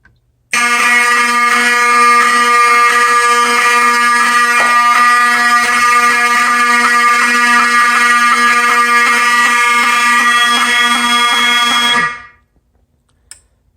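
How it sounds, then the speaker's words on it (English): A Wheelock 7002T fire alarm horn strobe sounds during a system test after a smoke detector trips indoors, blaring one loud continuous electronic horn tone for about twelve seconds before cutting off, with no talking. "See, smoke detector activated."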